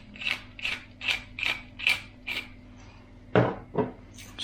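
A pepper grinder twists out black pepper in six even, rhythmic ratcheting clicks, followed by two heavier clunks, close and fairly quiet with no talk.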